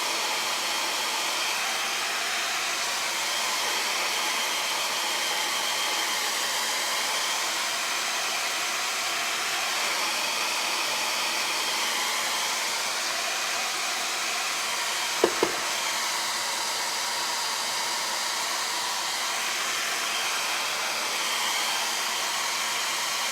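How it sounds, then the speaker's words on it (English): A blow dryer runs steadily and close up for a long stretch, drying wet paint on a painted wooden double-sided sign, with one brief tap partway through and no talking. "I'm gonna hit this really quick with the blow dryer"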